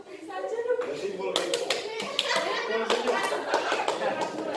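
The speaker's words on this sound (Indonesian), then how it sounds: "Ayo didengarkan tepuknya." A class of schoolchildren claps in rhythm in a classroom, sharp bursts of hand claps coming in patterned runs, mixed with children's voices and an adult speaking over them.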